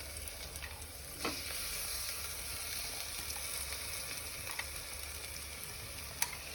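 Paste of ground chili, garlic, ginger and shallots sautéing in a pan, a steady close sizzle with a few faint stirring scrapes, no talking.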